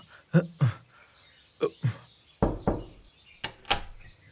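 Four pairs of quick, firm knocks on a door, spaced out with short pauses between each double rap, close by.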